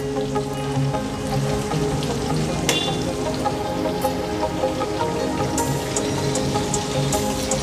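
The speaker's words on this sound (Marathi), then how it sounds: "जेव्हा आपण लो फ्लेम वर मच्छी तळत ठेवतो ना" Pieces of ghol fish fry in a little oil over a low flame, giving a steady close sizzle and crackle with occasional louder pops.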